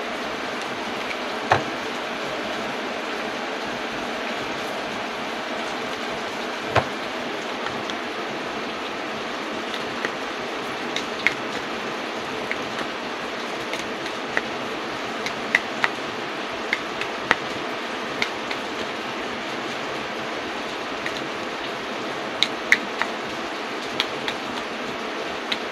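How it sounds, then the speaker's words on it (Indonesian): Heavy rain falls as a steady, dense hiss that fills the whole stretch evenly, with occasional faint ticks of drops hitting a nearby surface. No one speaks. "Hujannya semakin deres."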